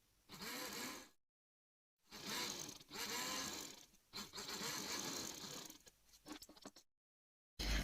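A sewing machine stitches lace onto a neckline in loud, close bursts of rapid mechanical whirring, separated by short silent pauses where the stitching stops.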